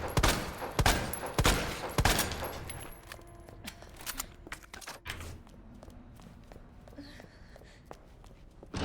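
Handgun fire in the Resident Evil 2 Remake video game: several sharp, loud single shots in the first seconds, then sparser clicks and thuds as the action quiets.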